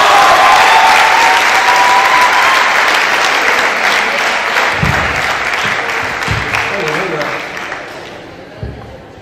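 Audience applauding after a poem recital at a poetry morning, loud dense clapping that slowly fades and thins out, with a few voices and scattered claps near the end.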